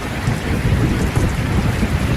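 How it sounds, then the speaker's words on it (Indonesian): Heavy rain pattering on a carport roof at night, a dense, steady roar of drops with no pauses. "terasa sunyi hanya terdengar percikan air hujan di atas karport"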